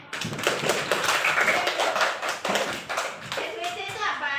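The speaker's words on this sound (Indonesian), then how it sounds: "beri tepuk tangan" Group clapping fills a classroom-style lesson on Islamic prophets, with dense irregular taps carrying on throughout while children's voices chatter over it.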